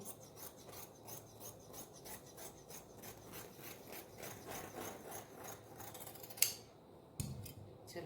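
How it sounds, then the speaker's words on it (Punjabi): Scissors snip and rasp steadily through fabric while cutting out a small child's pajama, a faint, close, rhythmic scraping that repeats throughout with a few sharper clicks near the end. "ਇਹਨੂੰ ਆਪਾਂ ਇਥੋਂ ਕਰ ਦਾਂਗੇ ਕਾਟ ਕੱਟ ਦਾਂਗੇ"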